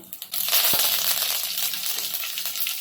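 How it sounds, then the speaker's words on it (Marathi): Cumin and mustard seeds hit hot oil with a sudden burst of loud, steady crackling sizzle after a brief quiet start, with one sharp pop early on and no talking. "इथे थोडंसं जिरं टाकून घेऊया थोडी राई आहे"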